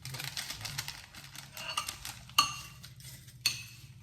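Tuna and crushed Skyflakes crackers stirred in a bowl, giving soft scraping and light clinks of a utensil against the dish, with two sharper taps near the end.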